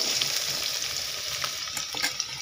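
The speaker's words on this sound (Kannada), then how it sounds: "ಈರುಳ್ಳಿ ಒಳ್ಳೆ ರೀತಿಯಲ್ಲಿ ಕೆಂಪಾಗುವವರೆಗೆ ಫ್ರೈ ಮಾಡಬೇಕು" Three large onions frying in coconut oil in a home kitchen for egg pepper masala, giving a steady close hiss with light stirring scrapes and small pops, no voices.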